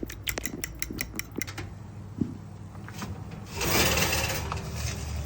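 A spoon scraping and rubbing around a bowl of yogurt with garlic and salt, a few quick taps at first, then steady close stirring that grows louder and wetter.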